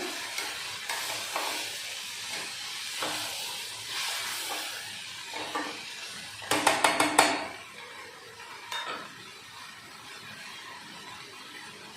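Mung beans mixed in a pot with a spoon, soft scraping and stirring strokes over a faint hiss, with a short burst of quick metallic clinks partway through.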